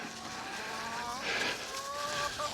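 Chickens cluck and squawk in a farm pen, with several birds calling close by in short, overlapping bursts.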